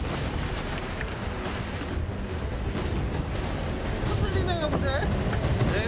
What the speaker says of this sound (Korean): 네, 지금 파도 있어요, 파도.